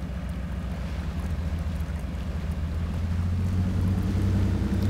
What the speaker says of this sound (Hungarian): bugyborékol a kipufogó